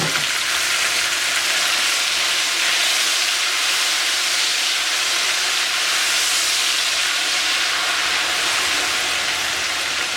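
Tomatoes hitting browned onions in a hot pan for chana masala rice, producing a loud, steady, dense sizzle and hiss that holds evenly throughout with no talking.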